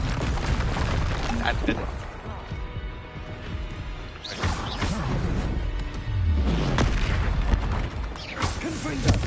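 Spell blasts and impacts from the video game Hogwarts Legacy on hard mode, with repeated booms and crashes between bursts of mechanical clatter, under a player talking.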